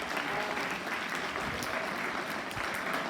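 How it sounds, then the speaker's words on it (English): Children applaud at a school National Science Day event after a presentation on acid, salt and universal indicator; a dense, even round of clapping from a crowd, continuous and fairly close. "a big round of applause"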